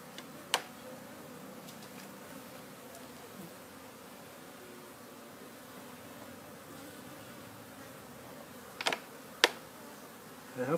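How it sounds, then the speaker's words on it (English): Honeybees hum in a steady, low drone while a colony is moved from a propolis container into a frame hive, with a few sharp clicks and knocks near the end. "There are many bees that are getting back there."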